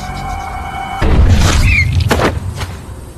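A car's fuel tank is shot and explodes in a film scene, bursting in as a sudden loud boom with a rumbling blast, followed by crackling and squealing debris noise that slowly fades.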